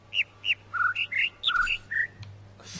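Bird calls in the jungle area of the video game The Witness: a sequence of about nine short, clear whistled chirps at varied pitches, high and low, spaced by brief pauses and heard alone.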